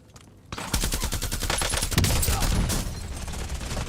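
Rapid automatic gunfire from a weapon in Call of Duty: Warzone, a dense burst of loud shots that starts after a brief quiet lead-in and keeps hammering for several seconds, close and dominant.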